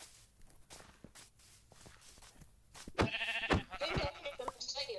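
In Minecraft, a sheep bleats in a few wavering, nasal cries near the end, over soft game footsteps and shuffling.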